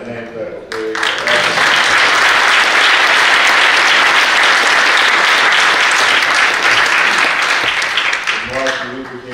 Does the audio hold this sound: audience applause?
yes